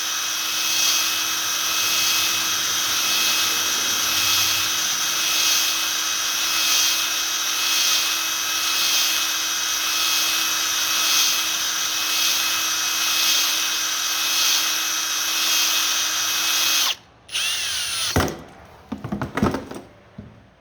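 A cylinder hone spins inside a Honda Rancher 350 cylinder, fine stones scratching a crosshatch into the bore in a steady, loud whirring drone for about seventeen seconds before it stops and a few clattering handling noises follow.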